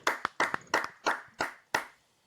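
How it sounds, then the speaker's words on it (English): Six separate claps, sharp and close, spaced about every third of a second with a short tail after each, follow a call for a round of applause for a podcast guest; the claps thin out and end in quiet. "Let's give a round of applause"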